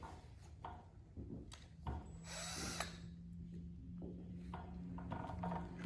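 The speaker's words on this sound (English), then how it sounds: "So now we're gonna go ahead and start drilling in." A power drill bores into a metal support on a Bahama shutter awning, a steady close grinding whir with a sustained motor tone and rubbing texture, no talking.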